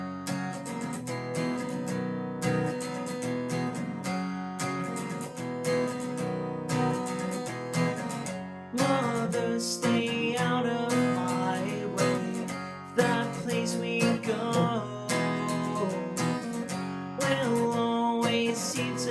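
Acoustic guitar plays the bridge of a song, steady strummed chords ringing out at a fairly even level, with a couple of sharper accented strums midway and no voice over it.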